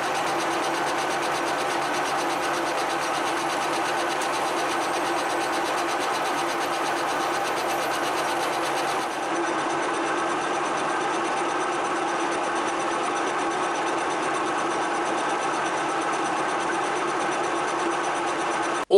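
A milling machine cuts a piece of steel rail being shaped into an anvil, giving a steady, dense mechanical whir and grinding drone that holds unbroken for the whole stretch with a slight shift midway, with no talking.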